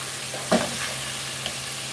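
Tomatoes drop into a hot frying pan with one soft thud and a brief burst of sizzle, then a steady low frying hiss with a small clink.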